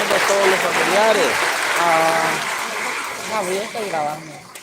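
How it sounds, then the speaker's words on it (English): Applause from an eighth-grade graduation audience thanking families, friends and staff, a steady broad wash of clapping heard throughout with cheers and whoops rising over it. "the biggest round of applause they can to thank them for all that they've done today"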